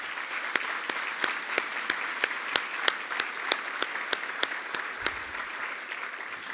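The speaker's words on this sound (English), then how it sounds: "I hope you'll give yourselves a round of applause for the work that you have been doing." At an aging-advocacy conference, the audience applauds for themselves, a steady bed of clapping with distinct sharp individual claps ringing out in a fairly even rhythm, no talk over it.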